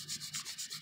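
Rhythmic hand sanding of a run in automotive clearcoat, quick back-and-forth rubbing strokes of abrasive paper on a hard surface, about seven even strokes, close up with no talking.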